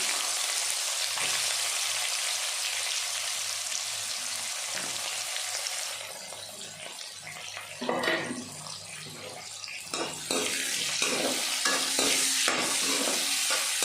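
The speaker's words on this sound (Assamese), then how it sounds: "পিঁয়াজখিনি মই অকণমান ৰঙচুৱা হোৱালৈ ভাজি ল'ম।" Onions fry in a pan, giving a loud continuous hiss and sizzle that dips midway with a few stirring scrapes, then swells again. No voices are heard.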